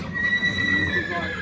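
At an open day parade, a horse, a young filly, gives a loud, close, high whinny that holds for about a second and then trails off, with faint hoof sounds and voices around.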